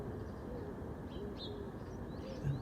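A pigeon or dove coos softly from a nearby tree outdoors, low and faint beneath a steady background wash, with a few thin higher bird calls drifting in.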